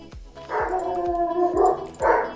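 A dog barks and yips in a Minecraft game, short sharp barks followed by two longer whining barks, fairly close and clear with no talk.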